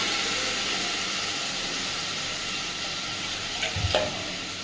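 A pan of frying fish sizzles steadily with a broad hiss, then a brief splash and sharper crackle near the end as water is poured in.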